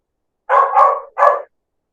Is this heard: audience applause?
no